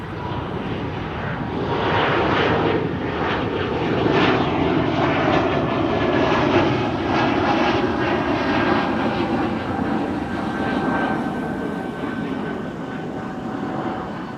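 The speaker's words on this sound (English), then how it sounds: "Air Baltic to Vilnius is on the move" An Air Baltic airliner bound for Vilnius taxis at Amsterdam Schiphol, its engines holding a steady, loud drone for the whole stretch, with a faint whining tone running through it.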